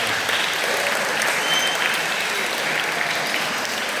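A church congregation claps together in steady, dense applause at moderate distance, sustained evenly throughout with no voices rising above it.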